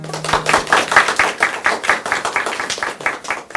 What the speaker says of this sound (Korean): 박수가 참 인색하시네요.